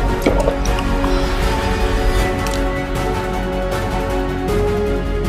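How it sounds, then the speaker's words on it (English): Wet, exaggerated gulping and swallowing noises from someone pretending to drink come in a quick, squishy series of close liquid-sounding gulps. "When they caught her pretending to drink by making huge gulping sounds like"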